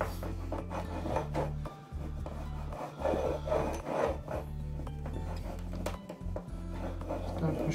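A wax scraper is drawn flat and gently across a polished wooden table top to lift off the wax. The steady rubbing, rasping scrape continues throughout, close and fairly loud, with brief pauses between strokes.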